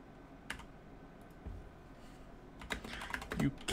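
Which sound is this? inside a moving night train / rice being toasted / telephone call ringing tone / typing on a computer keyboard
typing on a computer keyboard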